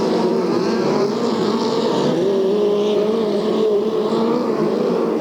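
USAC TQ midget race cars howl around the track at Ventura, California, engines loud and close with a sustained, wavering drone as the pack races together.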